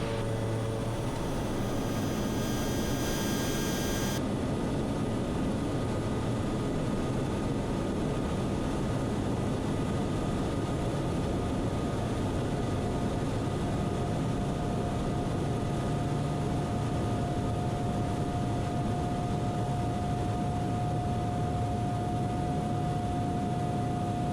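A small airplane takes off from a runway, its engine a steady loud broadband drone heard from inside the cockpit, with a faint rising tone emerging partway through.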